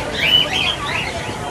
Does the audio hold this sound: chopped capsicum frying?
no